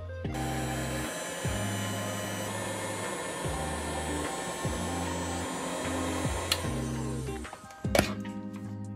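A heat gun shrinking heat shrink tubing blows with a steady whirring hiss that dips and returns in repeated cycles, then cuts off abruptly near the end with a couple of clicks.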